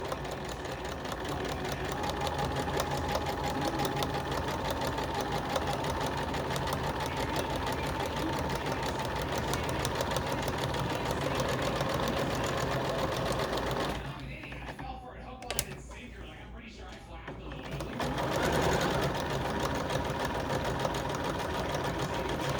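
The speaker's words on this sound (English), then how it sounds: "This machine has that really nice feature of dropping the needle every time it stops." A sewing machine stitching a bucket hat runs steadily for about fourteen seconds with a fast, even mechanical chatter, stops briefly with a click, then starts again. It is close and moderately loud.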